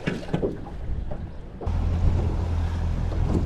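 Bass Pro Tracker Grizzly 1754 boat slow trolling through waves: a steady low outboard motor drone under rushing wind and splashing water, loud and close, with the engine hum becoming steady halfway through.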